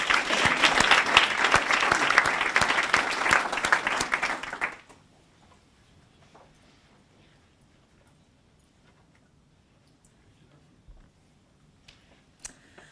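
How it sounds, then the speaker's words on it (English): An audience at an award presentation gives loud, sustained applause for nearly five seconds, then stops abruptly into near silence broken only by a few faint rustles and knocks. "So can I please ask everyone to put your hands together and congratulate Sheree."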